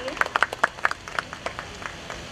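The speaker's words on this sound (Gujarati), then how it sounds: "તો આપણે એકવાર તાળીઓથી સતીશભાઈને વધાવી લઈએ." An audience claps to welcome a speaker at a gathering: crisp, close claps that start strong and thin out, tapering to scattered hits as the round ends.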